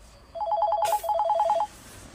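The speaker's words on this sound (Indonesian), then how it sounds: "Minta rida ulun menangkat telepon sebentar lah." A telephone rings with two bursts of rapid electronic trilling separated by a short pause, loud and close, with no talk over it.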